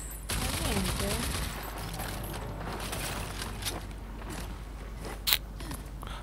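Rapid bursts of gunfire crackle through a busy, noisy mix in the video game Rage 2, with a sharp louder shot near the end.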